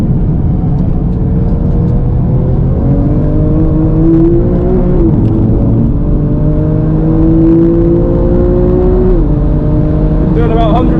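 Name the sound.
Porsche 997 Carrera GTS driven on a race track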